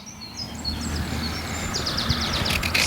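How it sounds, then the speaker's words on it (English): Birds chirping and twittering outdoors in an urban area in spring, with several short, light calls coming in bursts over a steady low background rumble. "oh, you can just hear all the birds behind me"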